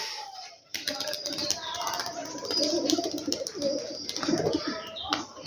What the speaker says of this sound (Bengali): ওরে উঠছে কবুতর